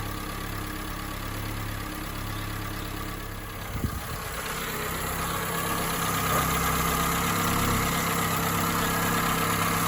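A 1986 Peugeot 205 GR barn find idles steadily after being restarted, a continuous near engine drone with a brief knock partway through, then settling into an even, slightly louder run with no talk.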